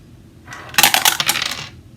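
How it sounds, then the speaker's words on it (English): A small plastic eight-sided die is dropped and clatters across a tabletop, a short burst of bright rattling taps that settles within about a second, close and alone. "let's roll the D8."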